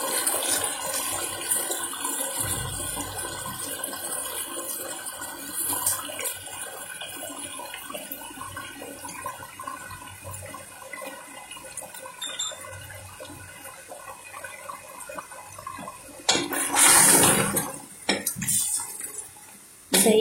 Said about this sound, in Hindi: गोश्त की भुनाई हो रही है।